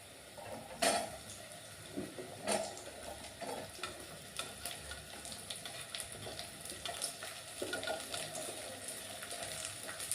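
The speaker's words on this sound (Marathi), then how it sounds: "यामध्ये आपण जी कापलेली भेंडी आहे ती टाकूयात." Cut okra tipped into a pan of sautéed onion, a soft continuous sizzle broken by a few sharp clinks of a utensil against the pan.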